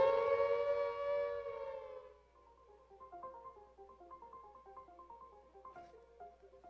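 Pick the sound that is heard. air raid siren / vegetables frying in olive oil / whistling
air raid siren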